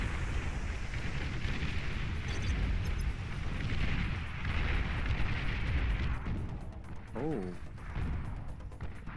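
Heavy long-range artillery in the strategy game Beyond All Reason booms in a dense, continuous barrage of loud rumbling blasts, with a voice briefly exclaiming over it.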